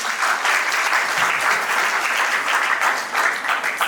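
Audience applause for new guests joining a second panel at a trading summit, a steady dense clapping wash held evenly throughout, loud and continuous with no voices over it.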